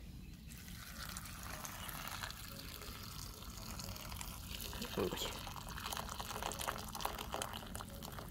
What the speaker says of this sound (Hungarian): már itt forralta a vizet, leöntjük